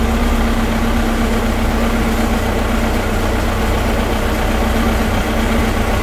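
A 2012 Larson LX850 boat engine idles steadily after its first start following nearly eight months in storage, a continuous, loud, even rumble with a low droning hum and no pauses.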